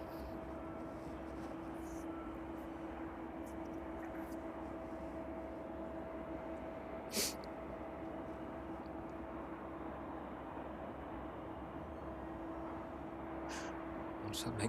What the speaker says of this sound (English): operated by Learjet 45. That one is just making its way now on its final approach to runway 27